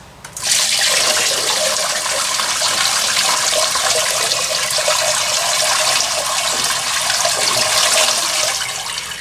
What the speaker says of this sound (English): let's get the rest of this water through here